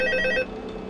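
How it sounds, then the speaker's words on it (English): A telephone rings in the video game Five Nights at Freddy's 2, one loud electronic bell trill that stops partway through, leaving a low background hum. "Phone."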